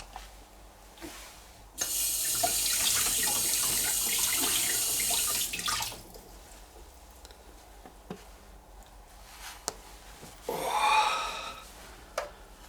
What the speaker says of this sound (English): So now we've just got to do a bit of water slurry.